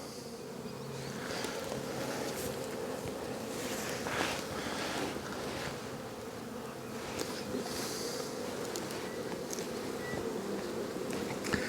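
Honey bees hum in a steady, dense drone as they cover both sides of a hive foundation frame, close to the microphone, with soft wind rumble beneath.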